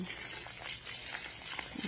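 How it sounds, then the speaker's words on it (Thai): Water running weakly from a garden tap while plants are watered, a soft continuous splashing gush heard close up without clear talk. "นี่นะคะน้ำไหลค่อยเพราะเราไปเปิดข้างหน้าด้วยอีกจุด"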